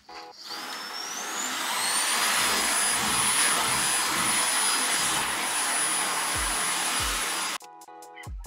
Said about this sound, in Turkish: anneniz yerleri süpürmeye başladı